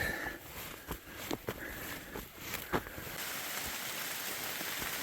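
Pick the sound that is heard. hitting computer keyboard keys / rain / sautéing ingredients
rain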